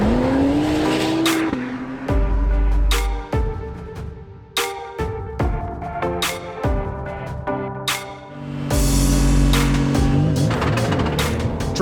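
An Acura NSX GT3 Evo race car engine screams at high revs, pitch climbing and dropping sharply through rapid gear changes, loud and close throughout.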